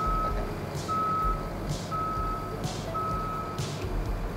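A garbage truck idles with a low diesel rumble while its reversing alarm beeps in a slow, regular series of four tones, with periodic hisses of air in between, heard from a moderate distance.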